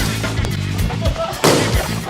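Balloons popping during a party team game, a few sharp bursts among crowd noise and voices, one louder pop near the end.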